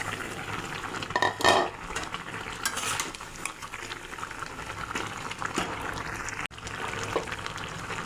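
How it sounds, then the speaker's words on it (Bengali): Fried tengra fish goes into a bubbling curry with eggplant and potato, a soft steady simmer punctuated by utensil clinks and a brief splashy rustle as the pieces drop in. "এখন ভেজে রাখা মাছ দিয়ে দেব।"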